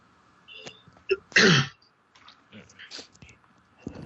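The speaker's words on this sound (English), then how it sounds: "Sorry if I keep coughing." A single loud, harsh sneeze-like cough bursts out close up during a casual live chat, with scattered clicks and quiet talking around it.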